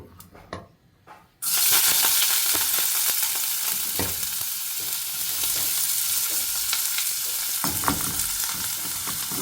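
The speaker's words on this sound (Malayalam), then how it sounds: "ഒരു പാൻ അടുപ്പത്ത് വെച്ചിട്ട് അതിൽ ഓയിൽ ഒഴിച്ച് കൊടുത്തിട്ടുണ്ട്. നമുക്ക് ഈ സവാള ഇട്ട് കൊടുക്കാം." Chopped onions hit hot oil in a pan with a sudden loud burst of frying that settles into a steady, close sizzle, with a few stirring taps and no speech.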